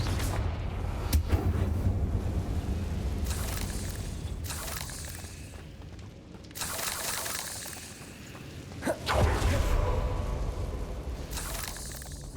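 A Confringo fire spell in Hogwarts Legacy goes off in several explosive bursts, loud and crackling, each flaring broadband then fading into a low rumbling game ambience with no voices.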